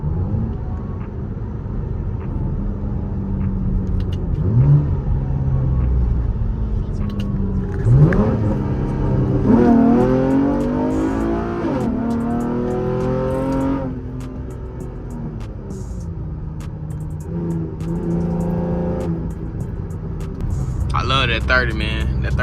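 A 5th-generation Camaro pulls hard from 30, its loud exhaust note sweeping upward through repeated gear-change climbs, recorded close from inside the car with a voice speaking over the engine.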